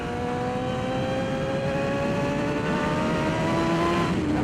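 Racing motorcycle on Bridgestone Battlax V02 slicks, its engine holding a loud, steady high-pitched drone close by as the rider drops from fourth to third gear, pitch shifting slightly toward the end.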